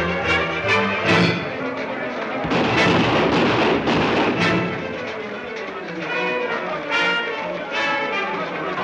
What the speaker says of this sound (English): Miss Lane, you got your gun? Now is the time